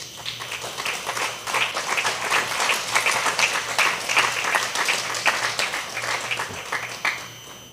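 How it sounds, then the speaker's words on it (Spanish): A church congregation at a Spanish-language service claps together in sustained applause, many hands close and continuous before fading at the end. "Denle un aplauso al Señor."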